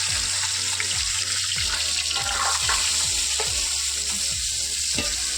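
Onions frying in a pan for a homestyle chicken curry, a steady loud sizzle throughout with a regular scraping stir of the spatula about every half second, close up and with no talking.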